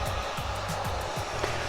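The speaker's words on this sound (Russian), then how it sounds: "вертикально нужно держать фен, ну просто для того, чтобы каплями не потек туда дальше спирт." A hair dryer blows steadily up close, drying alcohol ink on an epoxy tabletop, a continuous rushing whir with a slightly pulsing low hum and no talking.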